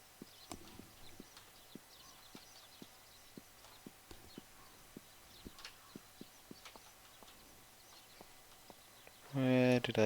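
Horse hooves clip-clop at a steady walking rhythm in a video game, moderately close, over a faint ambient bed with occasional bird chirps, ending with a brief loud burst of voice.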